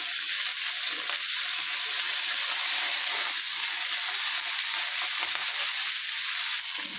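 Chela fish frying in hot oil in a pan for a Bengali fish curry, giving a steady, close, loud sizzle that runs unbroken throughout with no talking.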